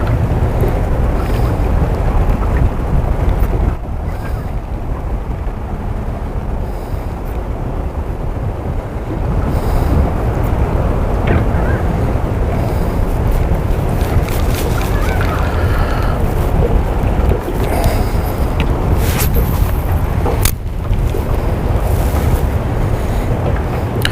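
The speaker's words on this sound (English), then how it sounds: "That wind's a little tough." Strong wind roars and buffets the microphone continuously while someone fishes from a boat, with water sloshing underneath and no talking.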